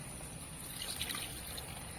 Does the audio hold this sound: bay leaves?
no